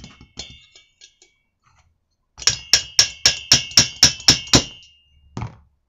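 Light hammer taps knocking loose the crankcase of a Chinese petrol trimmer, a few scattered knocks followed by a rapid run of about eight sharp metallic taps and one last hit, close and loud.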